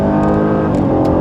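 A six-cylinder starter sedan, one of a 2013 Dodge Dart, Buick Verano or Chrysler 200, launches from a standstill after a 2,300 RPM rev, its engine heard from inside as a loud, steady rising roar.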